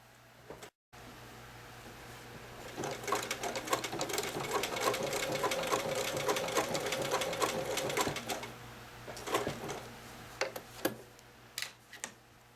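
Sewing machine running a tiny buttonhole stitch with 30 weight thread, a rapid mechanical ticking that starts after a brief pause, runs steadily for several seconds, then slows into scattered stitches.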